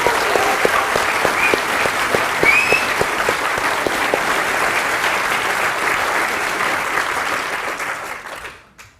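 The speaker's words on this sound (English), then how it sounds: "So I think he deserves a round of applause." A conference audience applauds steadily and loudly for about eight seconds, the clapping dense and even before tapering off and stopping.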